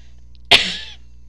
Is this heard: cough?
yes